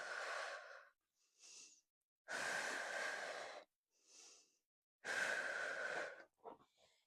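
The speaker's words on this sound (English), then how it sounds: "Breathing." Heavy, effortful breaths during a Pilates side plank: three long loud exhales alternating with shorter, fainter inhales, close and alone in a quiet room.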